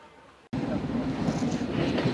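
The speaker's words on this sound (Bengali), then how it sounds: "আর লাইন দিয়ে যাচ্ছে ট্রেন" After a short quiet moment, a train's rolling rumble starts abruptly and continues loud and steady, with faint rhythmic clatter, as it passes on a line beside a road at Farakka.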